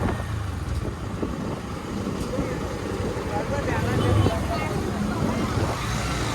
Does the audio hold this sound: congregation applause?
no